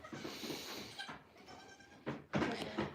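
Goats bleat on a farm, loud and close, with one drawn-out call followed by further bleats after a short pause.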